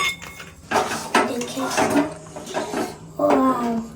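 A spatula scrapes and stirs a thick kheer sandesh mixture in a metal pan, giving clattery, irregular scraping and knocking strokes at close range, with a voice talking over them.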